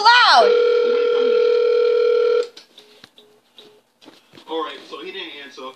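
A phone call rings out unanswered, a loud sustained ringback tone for about two seconds, then cuts off into quieter clicks and short beeps while a person starts talking near the end.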